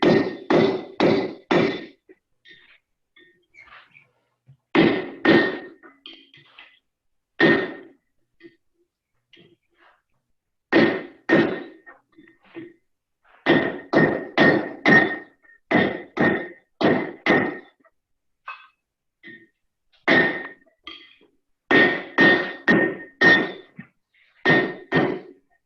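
A hammer striking hot steel while Dan Bowyer forges a pair of Poz tongs. The blows come in quick bursts of three to five ringing hits, each burst followed by a pause, and the pattern repeats steadily at close range.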